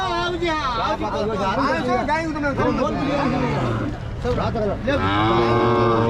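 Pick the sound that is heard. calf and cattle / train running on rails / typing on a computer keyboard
calf and cattle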